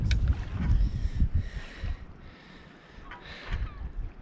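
Choppy water slaps and splashes around a sailing boat off the coast in a westerly wind, with close, uneven sloshing and rumbling gusts of wind noise throughout.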